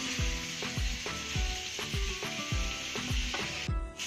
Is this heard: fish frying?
yes